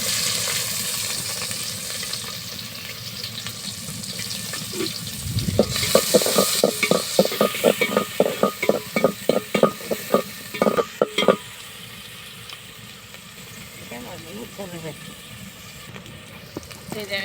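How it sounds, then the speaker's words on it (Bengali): Onions dropped into hot oil in a pot for a country chicken and bottle gourd curry, a broad sizzle rising then a run of sharp clattering stirring strokes before settling to a steady fry. "তেল গরম হয়ে গেছে পেঁয়াজ দিয়ে দিতে"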